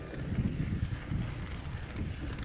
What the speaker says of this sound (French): il y a un petit vent là, frais, agréable